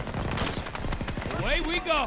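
Rapid automatic gunfire in Battlefield 2042, a fast train of sharp shots at close range, with a voice speaking over the latter part.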